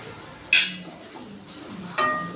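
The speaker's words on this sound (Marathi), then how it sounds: "आता बटाटा फ्राय केलेला टाकायचे।" Fried potatoes being tipped into a pan of frozen peas: a bright metallic clink of a utensil against the pan, light stirring scrapes, and a second clatter shortly after, with no talking.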